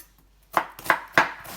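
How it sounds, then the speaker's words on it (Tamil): Onions being chopped with a knife on a board for mushroom biryani, four crisp, close knocks at an even rhythm after a brief quiet start. "அதுக்குள்ளே வந்து வெங்காயத்தை கட் பண்ணிக்கலாம்"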